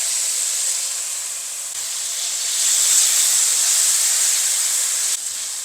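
Chopped tomatoes and onions sautéing in a pan for a prawn dish, giving a steady, loud sizzling hiss that holds unbroken and swells slightly midway, with no talking.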